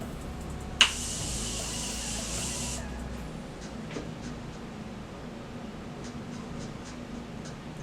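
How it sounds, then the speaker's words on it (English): A sharp click followed by a steady hiss of spray lasting about two seconds, then quiet room noise with faint light taps. "I'm just going to spray this all over my face."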